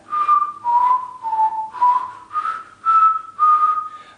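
Six short whistled notes from a beginner, each a breathy, wavering tone with slight pitch drift, separated by brief pauses, close and alone.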